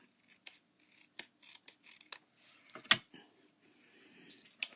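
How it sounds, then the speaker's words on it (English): Scissors snipping along folded paper while trimming the inside of a pop-up card panel: a series of sharp, close metallic cuts and rustles, irregularly spaced, with one louder crisp snip near the end. "Just trim a little bit of the inside off."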